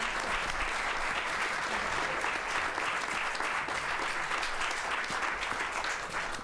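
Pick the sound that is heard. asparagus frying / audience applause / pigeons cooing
audience applause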